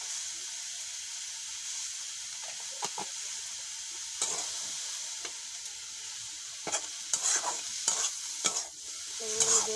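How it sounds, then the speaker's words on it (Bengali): Brinjal pieces seasoned with a little salt and turmeric fry in a pan, giving a steady close sizzle and hiss throughout, broken by several clattering stirs and scrapes that grow busier toward the end; no one speaks. "শাকের লেগে বেগুন নিয়েছি, ভেজে নিব।"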